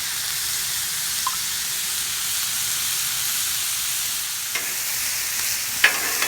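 Shrimp sizzling on an outdoor Blackstone griddle, a steady bright frying hiss with a couple of faint clicks and taps near the end, no talking.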